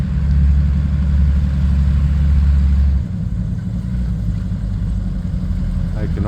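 A Bombardier snowmobile engine drones steadily at close range as the machine turns on its skis, a loud low rumble that drops slightly in pitch partway through, with a voice talking over it.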